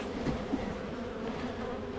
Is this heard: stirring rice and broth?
no